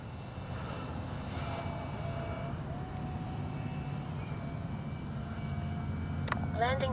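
An H-King Yak-11 RC plane approaches to land, its steady engine drone running continuously at moderate distance beneath faint outdoor ambience, with a brief chirp near the end.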